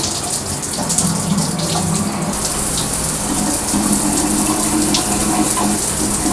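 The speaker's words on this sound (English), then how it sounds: "let me actually turn on the water first" Shower water sprays steadily onto a water-resistant shower curtain, a loud continuous hiss that grows slightly brighter partway through, with no voices.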